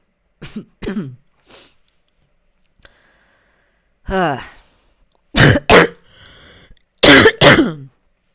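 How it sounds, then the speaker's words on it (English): Several dry coughs and throat-clearing bursts from a person choked up with emotion, coming in short clusters with quiet gaps between them, close and fairly loud. "I got so choked up I coughed."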